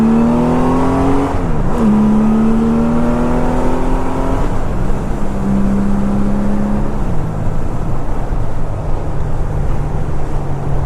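A 1989 Honda Goldwing touring motorcycle pulls up to speed, its engine note climbing steadily through two gear changes, loud and close over constant wind and road rumble.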